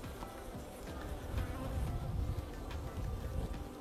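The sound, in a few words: honeybees buzzing in an opened beehive during inspection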